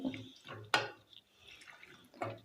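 Half a tumbler of water is poured into a pan of chayote sambar: a short splash of liquid with a few drips and trickles, quiet and close, with no talk.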